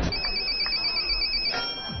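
A telephone rings on the line during a call to a contestant on a Chinese TV game show, a steady electronic ringing tone heard at moderate volume with faint background noise and no talk.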